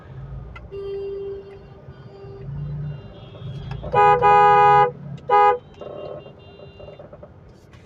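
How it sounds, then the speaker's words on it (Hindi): A car horn blares in stopped city traffic at a green signal, first one long loud blast and then a second shorter one, over the low rumble of idling engines and a faint beeping tone. "इसलिए हॉर्न लगाना पड़ा।"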